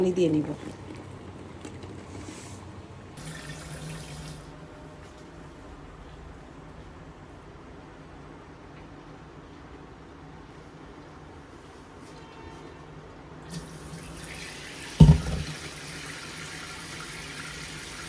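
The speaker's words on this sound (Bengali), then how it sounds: "এটাকে আমি এখন সিঙ্কের মধ্যে নিয়ে যাচ্ছি নিয়ে পানি গরম পানিটা ফেলে একটু ঠান্ডা" Tap water runs into a kitchen sink onto a hot pan in a steady, soft rushing stream for about ten seconds, with a voice speaking over it and a sharp knock near the end.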